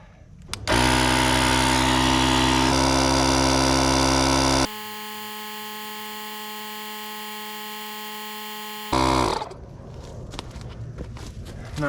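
A tire pump runs loud and steady while inflating the tires of a 1982 Ford Econoline van that sat unused for ten years, shifts to a lower humming tone partway through, then cuts off.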